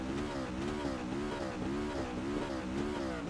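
A Chevrolet Silverado race truck in a racing video game holds a steady high-revving engine drone, its pitch wavering up and down in a regular rhythm, loud and continuous with no talking.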